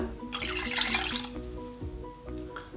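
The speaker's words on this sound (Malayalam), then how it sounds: "ഇനി നമുക്കിതിലേക്ക് ആവശ്യത്തിന് വെള്ളം ചേർക്കാം" Water runs from a tap into a pot holding about 300 grams of chicken for stock for a restaurant-style chicken Manchow soup, a steady close splashing gush that lasts a few seconds with no talk.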